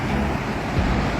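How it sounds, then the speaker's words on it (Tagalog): Rough sea surf at My Khe Beach in Da Nang, Vietnam, a loud continuous wash of breaking waves mixed with wind buffeting the microphone, with no speech. "Maalon siya today."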